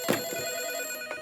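A telephone bell rings briefly in a Hindi film scene, a short burst of ringing over a steady tonal background.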